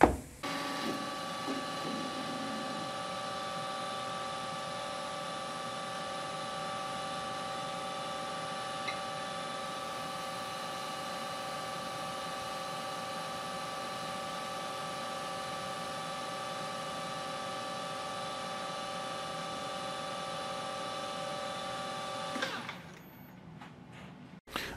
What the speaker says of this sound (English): you just saw me facing this flux capacitor valve to length